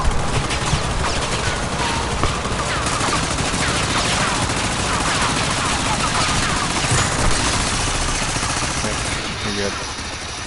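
Dense, continuous video-game gunfire rattles nonstop while shooting at an artifact, rapid automatic bursts layered thickly, with voices talking over the shooting.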